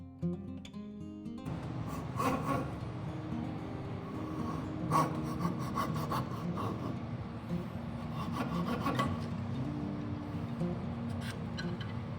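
Chisels pare and scrape out houndstooth dovetails in wood for a Roubo workbench, a steady close rasping with a few sharper taps standing out, a low hum running beneath throughout.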